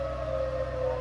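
A dam's water-release warning siren sounds as one steady, unbroken wail, heard from inside a moving Renault Duster 1.3 petrol turbo on the road from Delhi to Manali, with a low engine hum underneath.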